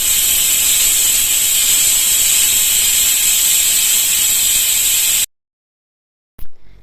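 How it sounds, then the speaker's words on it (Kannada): A mixer grinder grinds masala made with poppy seeds and coriander leaves for mutton sambar, giving a loud, steady, high whirring hiss for about five seconds before it cuts off abruptly. A brief faint clatter follows. "ನೆಕ್ಸ್ಟ್ ನಾನು ಮಿಕ್ಸಿ ಜಾರಿಗೆ ಹಾಕ್ಕೊಂಡು ಗ್ರೈಂಡ್ ಮಾಡ್ಕೊಳ್ತೀನಿ."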